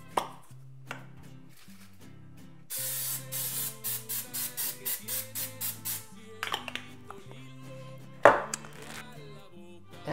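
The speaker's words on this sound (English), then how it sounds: "We're gonna spray it one more time." Cooking spray shoots into a slow cooker of shredded beef taco filling seasoned with salt and paprika, a close series of rapid short hissing bursts in a regular rhythm, with scattered clinks and handling noises around them and no talk.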